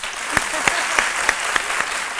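A TV studio audience claps for a returning guest on a French midday show: a steady, dense patter of hands with a few sharper claps standing out at regular intervals.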